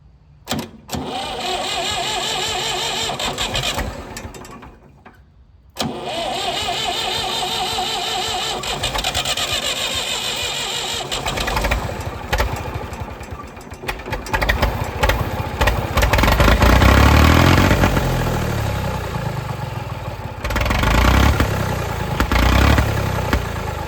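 A Massey Ferguson 2200 tractor forklift, abandoned for 23 years, with a broken throttle linkage and governor, cranks, stalls briefly, then catches and runs at a loud, rough, rumbling idle that surges and revs up close.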